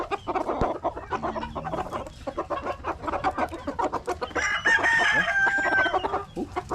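A rooster on a farm crows while hens cluck around it, repeated clucking bursts and a drawn-out crow, close and clear, with no voices.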